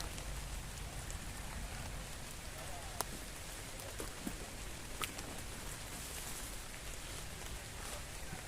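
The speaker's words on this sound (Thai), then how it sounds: "ฝนตกเอิญไปบ่เป็นเลยจ้ะ" Steady rain falling, a dense even patter across the whole stretch with a few sharper drips standing out.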